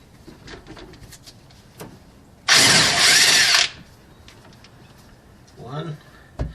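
Power tool spinning off strut bolts on a Lexus ES300 during rear strut replacement, one loud burst of about a second, with someone talking before and after and faint tool clatter.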